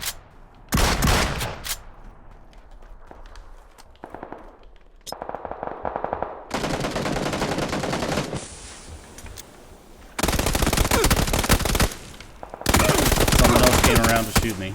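Gunfire in the battle royale video game PUBG, loud repeated bursts of automatic weapon fire with short gaps between volleys, alongside a few sharp single shots.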